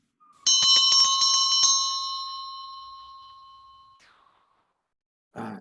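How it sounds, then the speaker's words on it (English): A loud bell strikes repeatedly in a fast ringing burst during a business meeting, then a long bright tone lingers and slowly fades to silence before a brief voice enters at the very end. "That is a really horrific bell."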